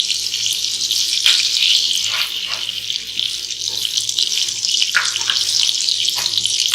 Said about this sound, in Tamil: பட்டர் நல்லா மெல்ட் ஆனதும் நாம் அரைச்சி வச்சுருக்க இஞ்சி பூண்டு பேஸ்ட்டை இதோட ஆட் பண்ணிக்கலாம்